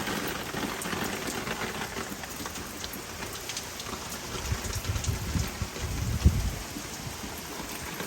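Steady rain falling and pattering on surfaces, a dense continuous hiss with a faint low rumble swelling midway, no voices.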